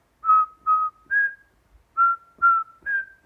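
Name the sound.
whistling a tune to imitate a flute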